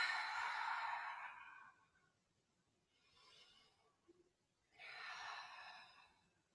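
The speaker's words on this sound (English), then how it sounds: "Again, in through the nose, out through the mouth. Maybe 3 breaths." Slow, deep breaths: a long airy inhale through the nose, a quiet pause, then a fainter breath and another broad hiss of air out through the mouth, close and soft in a calm yoga-style setting, with no talking.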